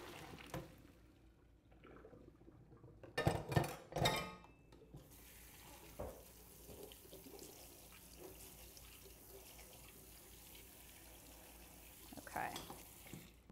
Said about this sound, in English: I'm just going to drain them, give them a little rinse with cool water to kind of stop them from cooking.